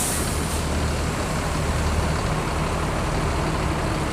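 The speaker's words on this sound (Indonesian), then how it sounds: "Bis ini memakai sasis Mercedes-Benz OH1526, karoseri dari Adi Putro." A Mercedes-Benz OH1526 bus with Adi Putro coachwork rumbles steadily up close, its loud engine noise broad and constant, with a brief hiss at the start.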